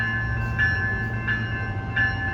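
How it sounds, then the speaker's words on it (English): An RTD A Line four-car commuter rail train departing a station, heard as a steady low rumble with tonal hum and a few soft periodic chimes or squeals, at moderate distance, without speech. "here goes the A line departing to DIA"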